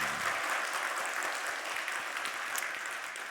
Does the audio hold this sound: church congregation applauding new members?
yes